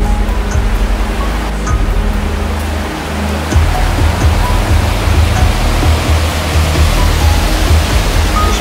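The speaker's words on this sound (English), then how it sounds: "This is a remarkable waterfall." Remarkable waterfall in a snowy, icy hidden valley, a loud continuous roar of falling water heard up close, rising slightly partway through, with no talking.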